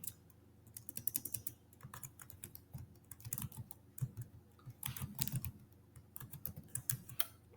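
Rapid, uneven keystrokes on a computer keyboard as a database query is typed, close and fairly crisp, in short bursts with brief pauses over about seven seconds, with no voices.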